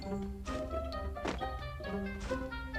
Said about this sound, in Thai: ผมได้ยินเสียงเท้าคนนะครับ